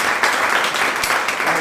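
Audience applause at a city council candidate forum in Glendora, a dense, steady patter of many hands clapping together, moderately loud and continuing throughout with no pauses.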